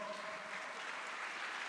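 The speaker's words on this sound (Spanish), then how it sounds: "Démosle un fuerte aplauso al Señor" Congregation applauding together inside a Christian church, a soft, steady wash of many hands clapping at a distance, fairly quiet, with no voices over it.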